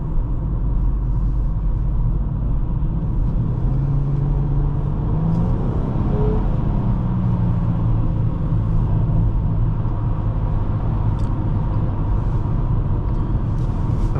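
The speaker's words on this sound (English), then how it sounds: "And I can hear that V6 growl." A 2011 Nissan Maxima SV's V6 engine is heard from inside the cabin while driving, as a steady, loud low rumble that holds throughout with a slight rise in pitch midway.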